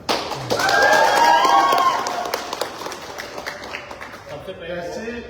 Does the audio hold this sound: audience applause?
yes